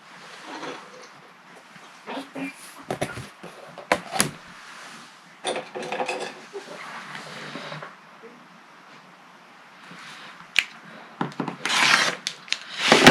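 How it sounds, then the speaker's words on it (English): A rotary cutter guided along a ruler slices through quilting fabric for a star quilt block, making uneven scraping and rolling bursts with pauses and a few sharp knocks, close and fairly loud, with no voices. "we're going to take our rotary cutter and ruler and we're going to cut along the drawn line"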